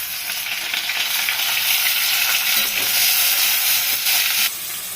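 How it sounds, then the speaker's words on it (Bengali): Pointed gourd, potato and tomato fry in a pan, producing a loud, close, continuous sizzle and hiss that stays steady throughout. "পটল আলু টমেটো তিনটাই ভাজা হয়ে গেছে।"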